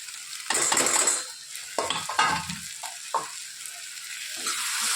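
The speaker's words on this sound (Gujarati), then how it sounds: "હવે જ્યાં ભીંડા ફ્રાય કરી રાખ્યા હતા એ નાખી દઈશું." Fried okra is tipped into a pan of onions and stirred, with oil sizzling steadily and a spoon scraping and clinking against the pan in uneven bursts, close by.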